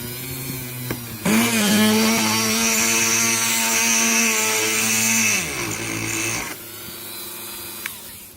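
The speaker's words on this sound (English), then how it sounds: "Start off at low RPM." A Dremel drills a spondylus shell bead at low RPM, a steady high motor whine that holds for about four seconds and then winds down, with faint clicks of handling before and after.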